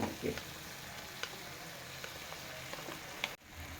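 Onions and potatoes frying together in a pan for aloo paratha stuffing produce a soft, steady sizzle with occasional stirring clicks, cutting off briefly near the end.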